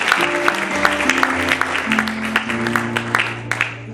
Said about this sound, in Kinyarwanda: Twongere Imana amashyi menshi cyane.